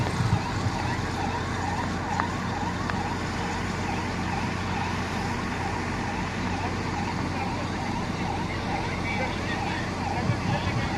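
An ambulance siren, from one of two ambulances following fire trucks, wails in a repeating rising-and-falling pattern, moderately distant, over steady traffic noise and a voice speaking.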